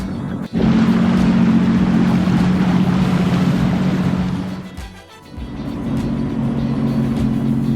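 A new Sea-Doo Wake 170 personal watercraft runs on open water during break-in, its engine a loud, steady drone that dips briefly midway and then returns strong, with water rushing underneath.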